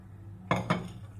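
A bowl of khandvi batter set down inside a microwave makes two quick, close knocks of dish against a hard surface, one right after the other, over a quiet background.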